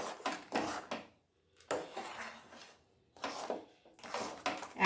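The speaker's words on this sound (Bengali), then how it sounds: "এখন এইভাবে শুধু নাড়ানোর পালা।" Semolina halwa being stirred in a ghee-greased pan, heard as bursts of scraping and knocking in a close, dry rhythm, separated by brief quiet pauses.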